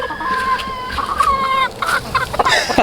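Penned chickens cluck and squawk close by in a dense, overlapping chorus, with no one speaking over them.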